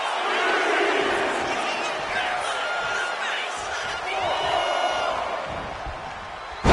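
A crowd roars and cheers continuously at a wrestling match in the WWE 2K25 video game, with swelling shouts and a sharp impact at the end.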